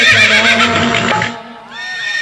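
A horse in a Nayika Banjara folk dance performance gives a loud, close, drawn-out whinny that shakes and wavers, with a faint clip-clop beneath it and no clear speech.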